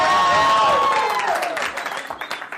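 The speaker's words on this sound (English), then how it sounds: "By a round of applause and your level of excitement, tell those who haven't seen me before how much fun they're going to have tonight." Live comedy show crowd bursting into loud applause and cheering, a dense wash of clapping with whoops that gradually thins out over a couple of seconds.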